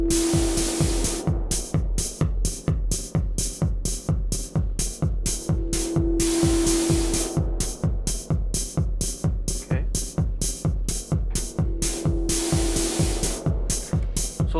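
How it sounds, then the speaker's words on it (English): A snare drum beat running steadily through heavily distorted reverb, each hit trailing into a gritty, buzzy wash, with a sustained tone surfacing at regular intervals beneath the rhythm. "the reverb is getting distorted."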